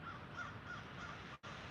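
A crow caws in a large graveyard, its calls faint and distant over a quiet outdoor background.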